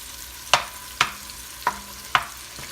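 Ground meat browning in a pan for creamy cabbage soup, with a faint steady sizzle under four or five sharp spatula scrapes and taps spaced about half a second apart, close and fairly quiet.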